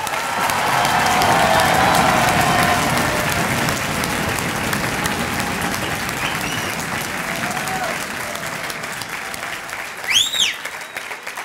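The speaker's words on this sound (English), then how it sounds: "Let's give them a massive round of applause." A crowd at a hospitality school's undergraduate graduation ceremony gives loud, sustained applause that slowly eases, with voices and a few whoops and whistles near the end.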